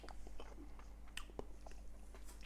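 Someone tasting finished homemade curry aubergine from their hand, with a few soft close bites and quiet wet chewing over a steady low hum.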